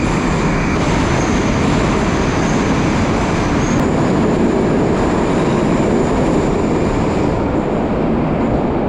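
A Moscow metro train in a station at lunchtime rush hour, loud and close: a continuous roaring rumble of rolling wagons with a thin high wheel squeal running over it, no speech.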